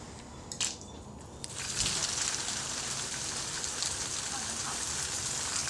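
Heavy artificial rain from a rain tower on a film set starts after a brief quiet moment, then pours steadily and loudly, a dense hiss of water striking the ground.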